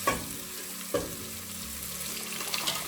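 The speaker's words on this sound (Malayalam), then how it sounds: "ഇനി നമുക്ക് പരിപ്പ് വേവിച്ചത് ഇതിലേക്ക് ഒഴിച്ചു കൊടുക്കാം" Cooked lentils tip into a pan of softened tomatoes for drumstick sambar, setting off a steady, close sizzle with a couple of soft splashy thumps as the liquid lands.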